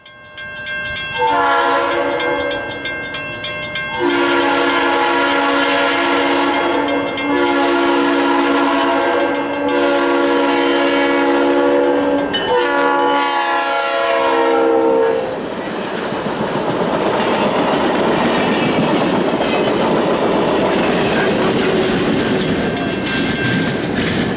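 A steam excursion train near Wilton, Iowa, rumbles past with loud, sustained horn blasts, followed by steady clattering of wheels on rails as it continues by.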